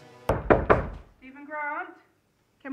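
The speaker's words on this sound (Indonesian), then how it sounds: "Tiba-tiba pintu diketuk" Sharp knocking on a door in a film scene, two or three firm raps close together, followed by a brief stretch of speech and then quiet.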